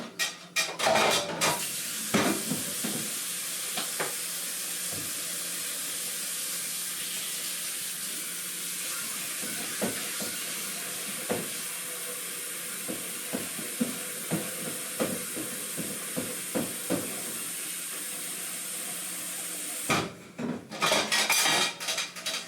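A big kitchen bowl being washed at the sink, with running tap water under repeated clunks and scrapes of dishes and utensils, and louder knocks of handling at the start and end.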